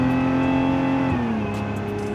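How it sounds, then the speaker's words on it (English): A Lotus Emira sports car engine drones steadily up close with a high, thin supercharger whine riding on top, its pitch dipping slightly partway through. "you can hear that supercharger whine all the time right behind you"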